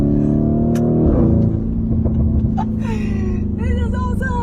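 A supercar with a 4-litre twin-turbo V8 making 670 horsepower revs loudly up close, its deep harmonic drone rising and then dropping with a brief shift, and a person speaks over the engine near the end.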